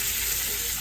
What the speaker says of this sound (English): Oh, I love the sizzle.